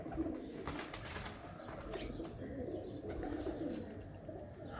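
Champion pigeons on a rooftop loft, with soft cooing and bursts of wing flapping under a steady noisy background that runs throughout.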